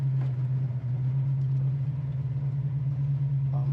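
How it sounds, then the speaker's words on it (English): A restored 1969 Chevy Camaro with MSD fuel injection idles at about 800 rpm, a steady deep rumbling engine note, close and even throughout. "Looks like it's idling about 800."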